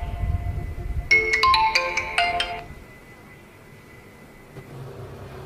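A mobile phone ringtone for an incoming call plays as a short, bright melodic electronic phrase of rapid notes lasting about a second and a half, loud and close, then stops.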